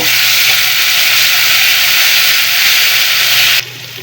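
Ground cumin, coriander, bay leaf and dried chili paste fry in oil in a wok, a loud, steady, close sizzle that holds evenly and then drops off abruptly near the end.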